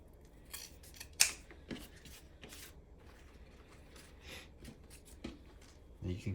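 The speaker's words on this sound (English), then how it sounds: "fold over these ribbons, give it a snip, so that I have a pretty tail right here" Scissors snipping folded ribbon tails on a large patriotic bow, with a sharp close snip near the start and a few softer cuts and rustles of ribbon in a quiet room.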